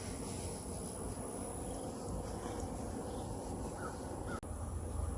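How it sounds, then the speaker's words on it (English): Crows caw faintly in the distance over a steady wash of outdoor noise, with a sharp brief click near the end. "Look at all those crows."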